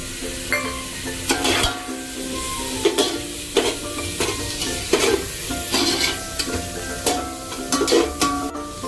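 Prawns sautéed in a pan with turmeric, salt and biryani masala, a continuous close sizzle broken by repeated spatula scrapes and metallic clinks of stirring.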